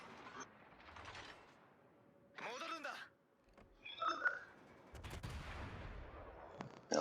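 Naval gunfire in World of Warships: distant booming salvos and shell sounds come in scattered bursts, mixed with quieter game effects and someone talking over parts of the action.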